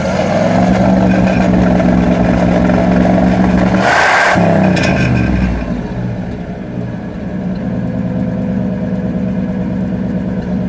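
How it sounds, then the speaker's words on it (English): A 1955 Chevrolet Bel Air Nomad engine runs at a steady idle close by, briefly revved once with a sharp rise before settling back to a slightly high idle. "Go ahead, give it a little rev there, Ed."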